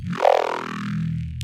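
A thick, growling Serum synth bass note with a swept, phasing filter character from a phaser and filter, sustained and loud for over a second.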